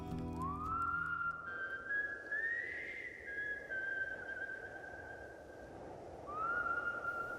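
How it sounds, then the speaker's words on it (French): A menacing human whistle, a single sustained note that rises, holds and slides over several seconds, then returns after a pause, heard alone against a low noisy background. "Un sifflement qui vous paralyse,"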